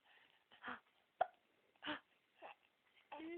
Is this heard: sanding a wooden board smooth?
no